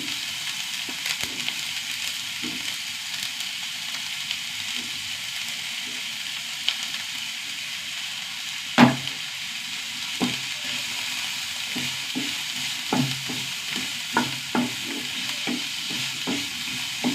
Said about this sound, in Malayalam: സവാള നന്നായി വഴണ്ട് വരട്ടെ.